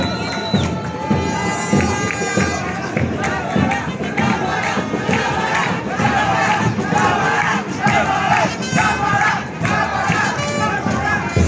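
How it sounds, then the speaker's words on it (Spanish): A large outdoor crowd at a folklore parade cheers, shouts and applauds continuously, loud and dense, with whoops and claps layered over a busy festive background. "Un fuerte aplauso para esta hermosa reina."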